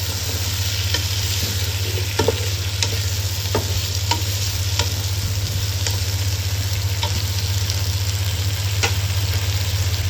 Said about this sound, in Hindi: इसको 2 मिनट के लिए चम्मच से मिक्स करेंगे।